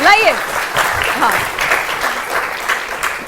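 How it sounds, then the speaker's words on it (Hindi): Studio audience applauding loudly and steadily for a guest during a televised Hindi debate on the US-Iran war, with a speaker's voice briefly heard over the clapping. "जोरदार तालियां आपके लिए"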